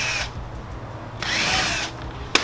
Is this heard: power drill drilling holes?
yes